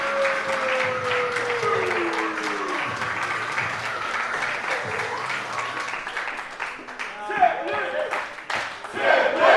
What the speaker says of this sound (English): Great respect shown by the crowd here at We The Independent in Sheffield for Tim Lee.